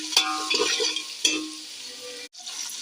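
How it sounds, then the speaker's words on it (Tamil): Onions fry in a pan with cinnamon, cloves and cardamom for chicken biryani, a close steady sizzle broken by a few sharp scrapes of a stirring spoon against the pan. "வெங்காயம் நல்லா வதங்கட்டும்."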